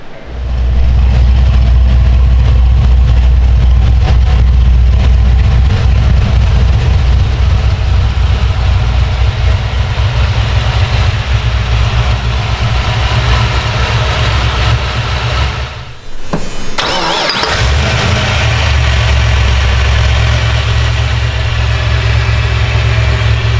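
A deep, rumbling LS1 V8 car engine with an LSA supercharger idles steadily and loudly for a long stretch, with a brief dip partway through before the throaty drone resumes.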